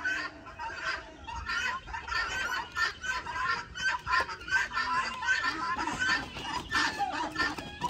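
Farm chickens cluck and cackle continuously at close range, a busy flock of overlapping calls with faint voices in the background.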